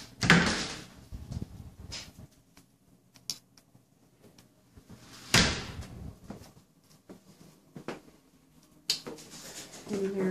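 Door in a hotel-style room opening and closing, sharp knocks and thumps at the start and again midway, with quieter clicks and handling sounds between.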